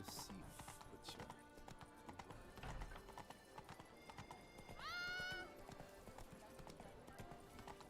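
Roach, a horse in a video game, gallops with rapid, continuous hoofbeats, and a shrill whinny rises midway through over quiet background game sound.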